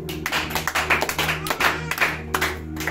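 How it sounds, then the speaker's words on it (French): A church congregation claps along in a steady rhythmic beat during a sermon, with music and voices underneath. "Acclame Jésus"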